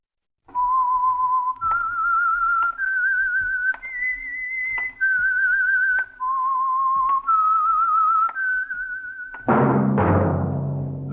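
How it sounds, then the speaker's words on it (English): A solo whistled melody of about eight sustained notes rising and falling, clear and close, serves as the theme for the Signal Oil radio program The Whistler, ending in a loud orchestral chord. "That whistle is your signal for the Signal Oil program, The Whistler"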